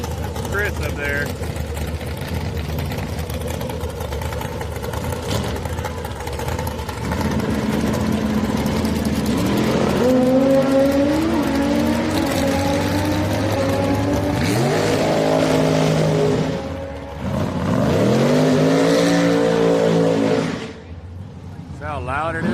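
Drag race cars rev and roar at Houston Raceway Park during a bracket race, engines loud and sustained with rising pitch sweeps, while commentary voices talk over the din.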